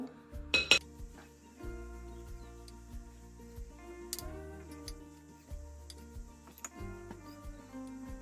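A tablespoon clinks against a metal muffin tin as gluten-free banana nut muffin batter is spooned into the cups: scattered light taps and ringing clinks at irregular intervals, fairly quiet and close, with no talking.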